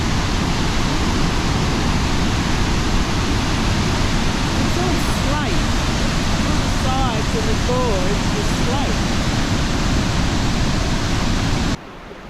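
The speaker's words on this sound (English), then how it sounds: "We're at the Oxley Falls, which is sort of in between Tamworth and Port Macquarie" Torrential water pours down Oxley Falls, a 65–70 metre drop swollen by heavy rain between Tamworth and Port Macquarie, a loud unbroken roar with someone talking over it and some brief whistly tones midway before it cuts off.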